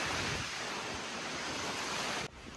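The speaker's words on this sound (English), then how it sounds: "It is still windy." Steady, loud rushing wind noise buffeting the microphone on a White Mountains hiking trail, broad and continuous, easing slightly at the very end.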